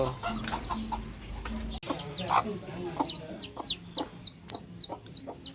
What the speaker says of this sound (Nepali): कस्तो राम्रो छ चल्लाहरू